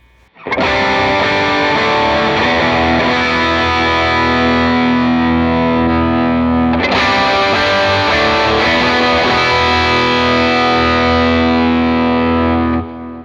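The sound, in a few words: electric guitar through tube screamer overdrive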